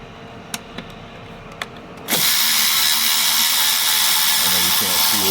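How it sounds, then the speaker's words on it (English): An electric ratchet works on bolts on a Honda Odyssey. After a few light metallic clicks and taps, it kicks in with a loud, steady high-pitched whine and gear buzz that runs continuously close by. "My little electric ratchet makes everything so much easier."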